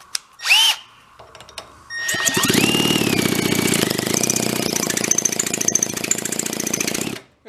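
A repaired small two-stroke leaf blower engine with a new spark plug is pulled and then fires up, running at a loud, buzzing high idle and revving for several seconds before cutting off.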